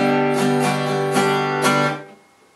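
An acoustic guitar plays a strumming pattern of quick rhythmic strokes, closing with two firm down strums that ring out and fade, close and clear with no talking.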